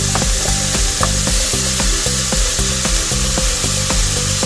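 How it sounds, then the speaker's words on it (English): Lemon-and-pepper marinated pork browning in a pan, a steady close sizzle of frying meat with dense crackling and small rhythmic pops throughout, loud and continuous with no talk. "So I let it brown for 1 to 2 minutes."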